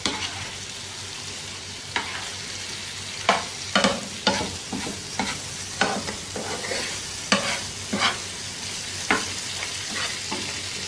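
Mutton chops being stirred in a hot tawa, with a steady fry sizzle broken by repeated scraping strokes of a spoon against the pan, close and fairly loud, no voices.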